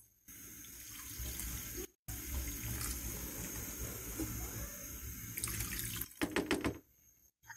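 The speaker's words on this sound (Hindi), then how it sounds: "दही डालने के बाद हम इसमें पानी ऐड करेंगे 1 गिलास।" A glass of water pours into a karahi of meat and yogurt, a steady close splashing stream with a short break partway through and a few clanks and splashes at the end.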